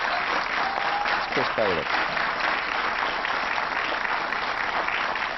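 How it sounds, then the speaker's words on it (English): Studio audience applause on the Countdown game show, a steady wash of clapping that runs the full length while a voice briefly speaks over it near the start. "Give them both a lovely round of applause, ladies and gentlemen"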